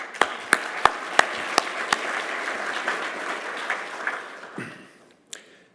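Applause from an audience at a Naspers corporate presentation, a modest crowd clapping with a few sharp close claps standing out, then tapering off into near silence with one last stray clap.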